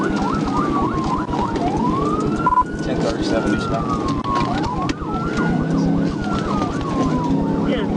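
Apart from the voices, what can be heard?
police car siren during a pursuit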